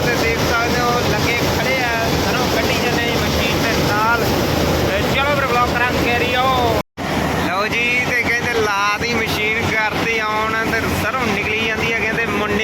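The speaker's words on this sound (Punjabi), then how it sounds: "ਤੇ ਸਰੋਂ ਕੱਢਣ ਲੱਗ ਗਿਆ ਤੇ ਮਸ਼ੀਨ ਦਿੱਤੀ ਆ ਲਾ" A mustard threshing machine running in a field during the mustard harvest, a loud, steady, windy mechanical roar with a brief cut midway and voices talking over it.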